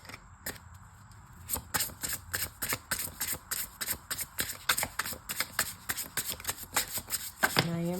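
A tarot card deck being shuffled, a long run of rhythmic, evenly spaced card riffles, close and crisp, with a short voice at the very end.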